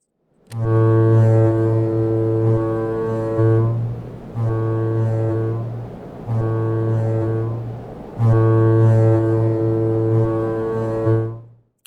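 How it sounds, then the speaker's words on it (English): A loud, deep container ship general alarm horn in the game Stormworks sounds in repeated blasts, short then long, with brief gaps between, close and dominant. "It's a short, long blast of the horn, repeated."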